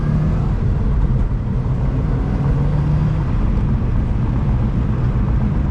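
Subaru WRX STI engine driven on a scenic, bumpy road in Japan, a loud steady in-car drone with low rumbling tone rising and shifting slightly as it pulls through gears, continuous for the whole stretch with no talk.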